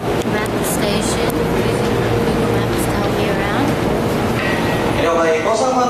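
Busy railway station in Japan, near Shibuya, with a steady loud wash of rumbling trains, crowd murmur and distant announcements filling the whole stretch, with voices talking throughout.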